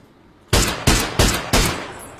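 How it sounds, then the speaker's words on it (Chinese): Cannon fire in a video game, four heavy booming shots in quick succession at roughly even spacing, each a loud sharp blast with a short decaying tail, close and without talk. "这大炮，炮声。"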